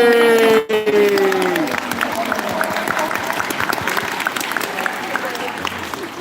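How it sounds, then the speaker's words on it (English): Applause from a live audience at a sea lion presentation, a dense wash of clapping after a brief opening sweep, steady and fairly close throughout with crowd noise mixed in. "But do you give Arthur a round of applause"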